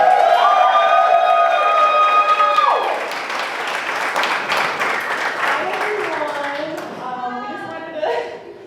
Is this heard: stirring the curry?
no